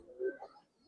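A pair of Bagha pigeons gives a single brief, faint low coo, close by and otherwise quiet.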